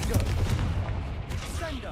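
Confringo blasting spell fired in the Hogwarts Legacy video game: a quick burst of explosive blasts against a busy background of combat noise.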